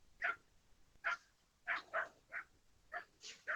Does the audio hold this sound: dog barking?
yes